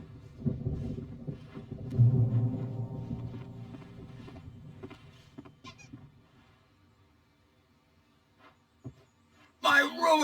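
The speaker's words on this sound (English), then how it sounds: "There's a storm coming. Oh, what a storm." A storm approaching in Alan Wake Remastered brings a low, rolling rumble of thunder that swells early and fades away over several seconds. A voice speaks, and a sharper burst of noise comes near the end.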